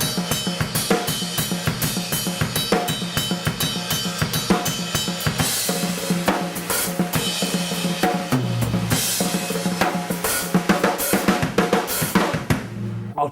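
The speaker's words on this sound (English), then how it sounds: "Second half of the second verse basically involves rolling on the snare" Drum kit playing from a rock song's verse, with rapid snare rolls woven through steady beats and cymbal wash, loud and close, continuous with no talking.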